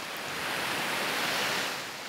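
Waves breaking on a shallow sandy beach make a steady broadband wash of surf that swells slightly and eases off, with some wind noise and no voices.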